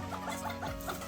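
Black mottled chabo hens cluck softly in a coop, a quick run of short repeated clucks over a steady background.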